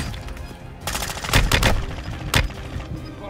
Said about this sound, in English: We're shooting together, so be careful.